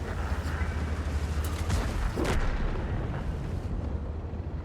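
A deep, heavy tank cannon boom from the T110E5 in World of Tanks rolls out over a constant low engine drone, followed by a fading rumble.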